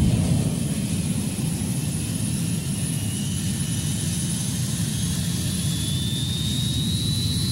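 Space shuttle engines powering up in a Sega video game, a loud continuous jet-like roar with a steady rumbling low end and a faint whine climbing slowly in pitch.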